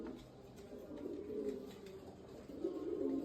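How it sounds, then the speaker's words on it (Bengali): Silver pigeons cooing in a loft, soft repeated low throaty coos at close range with a little background rustling. "আমাদের কিছু সিলভার কবুতর আছে, এই যে এক পেয়ার।"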